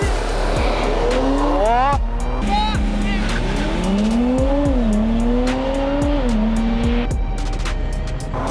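A BMW X6M and a Mercedes-AMG C43 launch hard in a drag race start, with loud, close engines revving up through several gear changes and tires squealing and skidding throughout.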